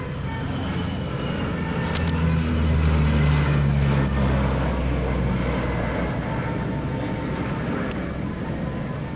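A P-3C Orion patrol aircraft at an airshow demonstration drones loudly with propeller engines, the low roar swelling as an engine restarts, with an announcer speaking faintly over the noise.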